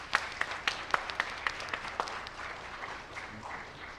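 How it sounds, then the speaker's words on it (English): A conference audience applauds a director, with a few sharp, distinct claps standing out near the front over a softer, spread-out crowd clapping that gradually thins. "Please have a round of applause for Dr."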